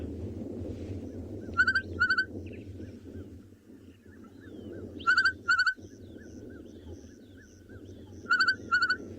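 A recorded bird call played back on a South African afternoon safari: repeated clear whistled double notes in three spaced bursts over a steady low hum, with no talk.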